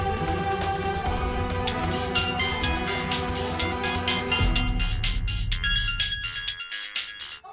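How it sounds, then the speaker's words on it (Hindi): A melodic phone ringtone plays loudly and continuously, its repeating tones ringing for several seconds before cutting off near the end. "सांची फोन क्यों नहीं उठा रही?"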